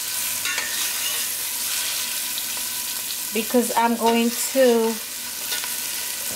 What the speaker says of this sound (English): I'm gonna stir this.